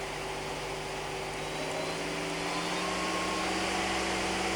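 A Samsung SL-20/500 CNC turning center spindle spins at 3000 RPM, a steady broadband whir with faint tonal hums underneath, constant and close with no talking.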